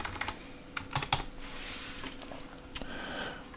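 Bursts of typing on a computer keyboard, a quick cluster of keystrokes followed by a few scattered taps, close and fairly quiet with no talking.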